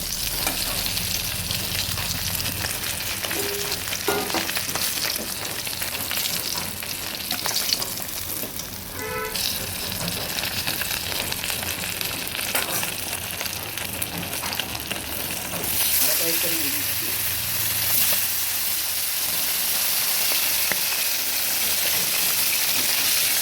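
A second batch of koi fish lowered into hot oil, frying with a constant close sizzle and bubbling that runs on steadily with no talking.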